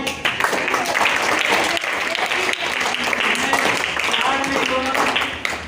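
Students in a classroom clap for classmates during a computer literacy day class, a loud, close round of applause with uneven claps, while voices talk over it throughout.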